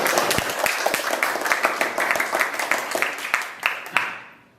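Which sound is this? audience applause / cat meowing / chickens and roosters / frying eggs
audience applause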